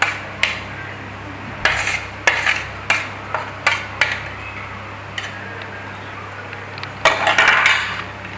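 A spoon stirs ground masala spices in a pan for fish curry, making repeated metallic scrapes and clinks in an irregular rhythm, close and moderately loud over a steady low hum.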